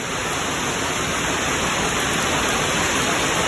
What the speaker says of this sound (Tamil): இப்போ மழையுமே வந்து நல்லபடிய மழை பெய்யுது